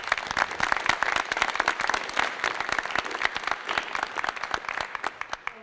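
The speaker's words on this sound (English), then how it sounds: "Let's give them a round of applause here." Applause from a conference audience after a climate change economics panel: many distinct hand claps forming a lively, crackling patter that gradually thins and fades out near the end.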